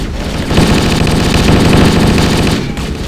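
Rapid, continuous automatic gunfire from Halo: Combat Evolved, loud and dense, with a sustained burst that rattles on for over two seconds before tapering off.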